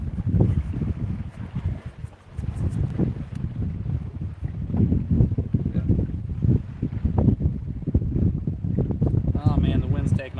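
Gusty outdoor wind buffets the microphone with a continuous low roar during fireside cooking of walleye in cast iron, rising and falling throughout the clip.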